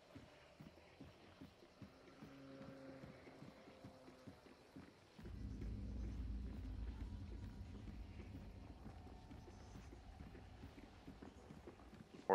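Horse hooves clip-clop in a steady rhythm, joined midway by a low rumbling background, fairly faint, in the video game Hunt: Showdown.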